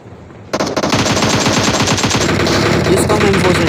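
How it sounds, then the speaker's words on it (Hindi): Rapid bursts of M4 rifle fire in a battle royale video game break out after a brief quiet start, a loud, fast, sustained string of shots close by. "जिसको हम M4 से डैमेज करते हैं शुरू में"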